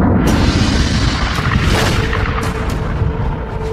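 A loud, rumbling explosion roars and rolls on, with a heavy low boom and crackling bursts layered over it.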